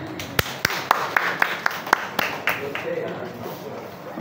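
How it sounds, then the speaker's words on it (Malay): A small audience claps for the winner of a peanut-count guessing game at a group programme at a chalet in Perak, sharp scattered handclaps with voices and chatter underneath. "Bagi tepukan."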